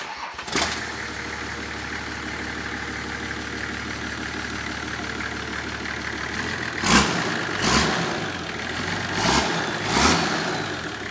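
Nissan Patrol with a TD42 turbo diesel conversion and GTX28 turbo, starting up and settling into a loud, steady idle, then a few short revs near the end.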